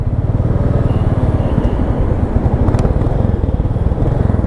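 A Royal Enfield Classic 350 motorcycle idles and runs in city traffic, its single-cylinder engine thumping in a steady, loud, close rhythm with faint traffic around it.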